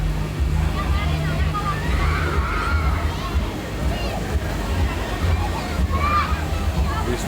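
Children splash and play in an outdoor pool with a double water slide during a town festival in La Sènia, continuous water sloshing under a busy babble of young voices and shrieks.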